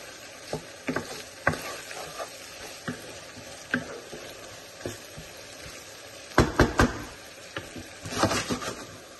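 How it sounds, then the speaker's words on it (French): Vegetables and seafood sauté in hot oil, giving a continuous soft sizzle with repeated scraping and clattering stirs from the pan, close but fairly quiet, with no speech. "Gratiner maintenant nos légumes et fruits de mer."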